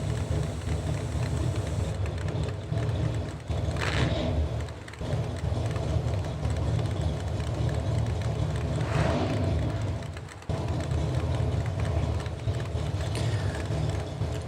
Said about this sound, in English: Here comes the Nitrous Purge.